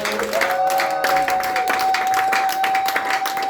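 A church congregation applauds at a Sunday service, a dense continuous clapping from a crowd that holds steady throughout, with a sustained tone running beneath it.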